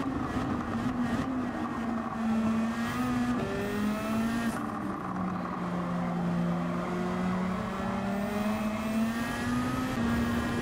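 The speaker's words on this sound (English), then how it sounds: "Power of the GTR, let's go." A Nissan GT-R race car engine in the Gran Turismo 7 racing game drones and revs continuously, its pitch rising and falling through gear changes, with no voices.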